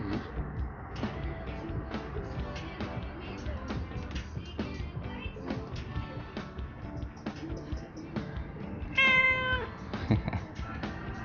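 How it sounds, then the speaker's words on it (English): A cat meows several times in a home, close and clear, with one louder drawn-out meow near the end over a background of shuffling and faint voices. "That's a cute cat right there."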